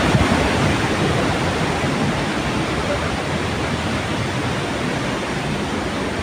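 Loud, continuous roar of high, rushing water at Old Wawa Dam in Montalban, Rizal, Philippines fills the scene, a dense broadband hiss with no pauses.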